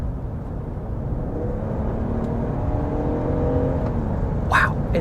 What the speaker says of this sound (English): I'm trying to mash the pedal a little bit to make it sound good.